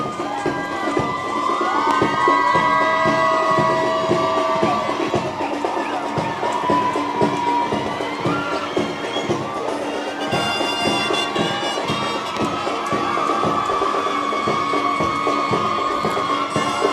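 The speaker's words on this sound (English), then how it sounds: "we want to keep the applause going as they make their way onto the parade square" Crowd at a passing out parade cheering and applauding steadily as recruits march onto the parade square, loud and sustained with whistles and shouts throughout.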